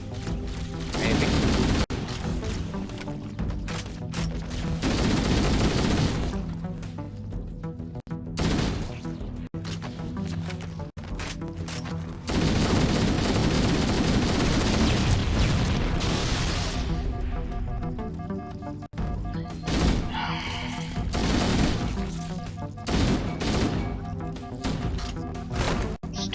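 Gunfire in the video game Halo: Combat Evolved, bursts of rapid automatic shooting and impacts in several stretches separated by short pauses, with game noise filling the gaps.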